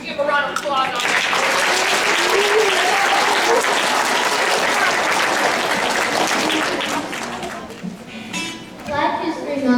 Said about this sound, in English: Give a round of applause on that.